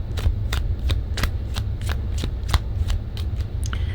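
Tarot cards being shuffled by hand, a close, crisp run of rapid riffling flutters repeating in a steady rhythm, with no talk.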